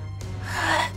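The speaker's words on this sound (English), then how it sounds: "Why are you panting?" An animated character pants in a Dragon Ball scene, a single sharp breathy gasp that swells and fades within about a second over a steady low background hum.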